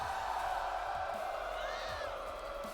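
Constant roar of an arena crowd in a WWE 2K24 wrestling video game, a broad sustained cheer with occasional louder swells and no music underneath.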